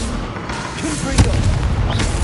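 Confringo spell explosion in Hogwarts Legacy on PS5, a single booming blast at the midpoint amid constant game noise and a spoken voice.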